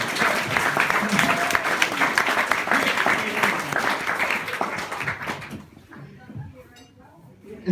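Wedding guests at a reception applauding during the best man's speech, loud close clapping and cheering from a full room that fades out after about five seconds into quiet room tone.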